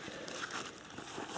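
A small plastic bag holding a first-aid kit crinkles and rustles continuously right up close, a dense crackling texture with no speech over it.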